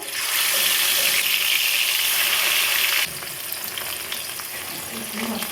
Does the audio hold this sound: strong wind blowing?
no